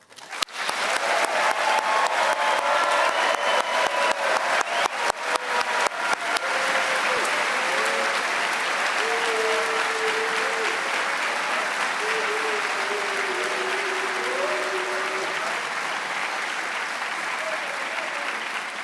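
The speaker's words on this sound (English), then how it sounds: "join me in a resounding applause for our cadet cadre" At a West Point graduation ceremony, a crowd bursts into loud, sustained applause that keeps going for many seconds, with scattered voices and cheers mixed in.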